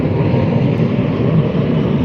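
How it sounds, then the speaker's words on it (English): A big airplane passes overhead outdoors, a steady broad engine roar filling the short stretch at fairly loud level, with no talk over it. "this is that big plane"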